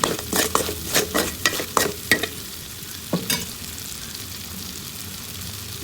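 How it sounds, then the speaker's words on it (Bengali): Ginger paste, cumin, chili, turmeric and salt frying in a pan: a run of sharp, close spatula scrapes for a few seconds, then a quieter, steady sizzle alone. "এখন ওটাকে হালকা করে একটু কষিয়ে নেব।"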